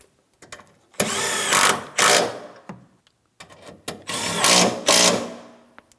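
A power tool snugs the radiator mounting bolts on a 2007-2014 GMC Sierra 2500 HD pickup, several loud, close rattling bursts separated by short pauses.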